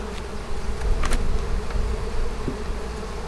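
Honey bees buzz steadily and close by while a beehive is opened and inspected, a dense continuous drone with a few louder individual passes near the start, with no talk.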